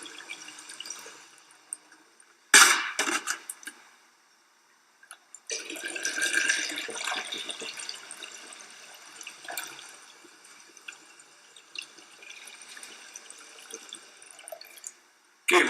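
Water gushes and splashes into a fire extinguisher in bursts, with a sharp burst early on, a pause, then a longer steady pour that fades to trickles and intermittent splashes.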